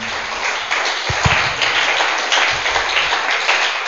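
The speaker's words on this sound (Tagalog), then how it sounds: "Palakpakan muna natin ang ating Panginoon." A church congregation applauds during a sermon, a steady wash of many hands clapping for about four seconds at moderate loudness, with a few sharper claps near the start.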